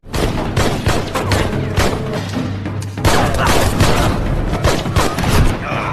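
A film gunfight between a man and a crime syndicate's gang, heard as dense, rapid bursts of loud gunfire with booming impacts, nearly continuous for the whole stretch.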